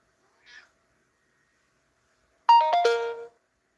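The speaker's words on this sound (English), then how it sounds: "hear my cat making noise?" A pet cat gives a brief faint sound, then after a pause a louder drawn-out meow with a layered, chiming quality, close by in a quiet room.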